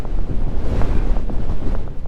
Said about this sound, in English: This wind is relentless.